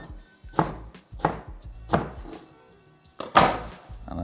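Knife chopping eggplant into cubes on a cutting board for a homemade eggplant bolognese: four distinct, evenly spaced thunks of the blade striking the board, close and crisp, with quiet gaps between and no talking.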